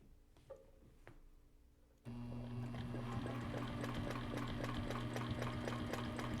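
A sewing machine runs a stitch back over a seam in triangle patchwork, a quiet pause and a few clicks giving way to a steady, fast mechanical whir that keeps going to the end.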